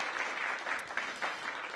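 An audience applauds at a mayoral swearing-in ceremony for transit officials. The clapping is steady, moderately distant and fairly soft, filling the short moment without any talk.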